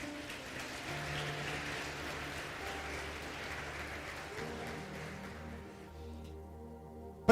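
A church congregation applauds in a steady wash of clapping that sounds somewhat distant and soft, then fades out near the end.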